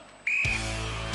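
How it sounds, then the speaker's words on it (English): A referee's start whistle at a televised Gladiators hurdles race gives one sharp, shrill blast, followed by a louder burst of crowd or studio noise. "you will go on my first whistle. Sarah, you will go on my second whistle."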